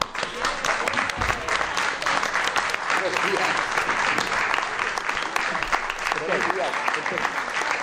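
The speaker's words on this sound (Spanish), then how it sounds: "los aplausos los he empezado yo" A television studio audience gives steady, dense applause for several seconds, a full even wash of clapping without a break.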